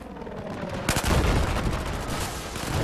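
Battlefield 4 gunfire on PS4 multiplayer: sustained rapid automatic shots begin abruptly after a brief quieter lead-in, dense and loud, with occasional heavier booming impacts.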